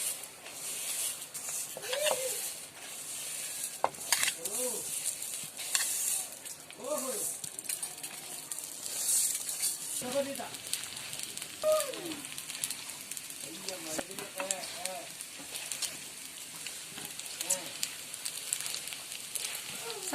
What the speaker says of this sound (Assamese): চাউলখিনি ভাজি ল'ম।